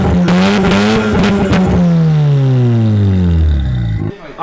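Loud, close Mazda RX-7 engine on open headers revs hard, then its pitch sweeps steadily downward as the revs fall away over several seconds before cutting off sharply.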